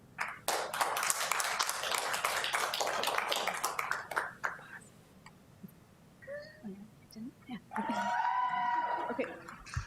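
Brief dense clapping bursts out at a school board meeting, filling the first few seconds before fading. A few scattered claps follow, and then a voice speaks into the microphone.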